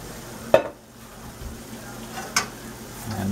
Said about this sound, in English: I'm going to add my leeks